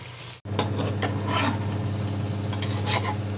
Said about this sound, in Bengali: চালটা ভালো করে একটু নাড়াচাড়া করবেন।